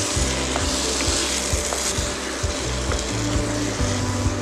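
A spatula scraping and stirring brinjal bharit ingredients in a hot pan, rhythmic wooden rubbing strokes over a continuous loud sizzle, close up.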